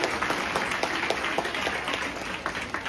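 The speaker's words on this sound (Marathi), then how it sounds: "एकदा त्यांच्यासाठी जोरदार टाळ्या होऊन जाऊ द्या." School children applauding prize winners at a school health education event, a dense, steady round of clapping from a crowd that fills the whole moment.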